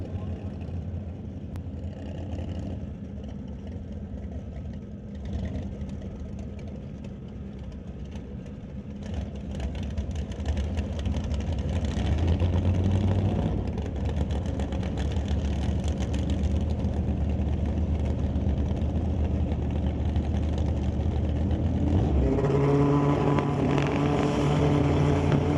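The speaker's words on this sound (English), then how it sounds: "Christopher, pair of Pro Mod bikes, ready to the rundown track" Pro Mod drag racing motorcycles at a drag strip, a pair staged for a run, with a steady loud engine drone that builds midway and shifts to a revving, harmonic-rich note near the end.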